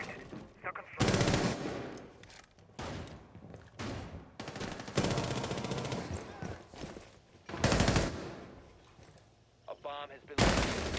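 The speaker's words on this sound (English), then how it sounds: "Mozzie just stands up, fires, and takes down Curse." Automatic gunfire from a Rainbow Six Siege esports match comes in several loud bursts spread across the stretch, with gaps between them and game sounds continuing underneath.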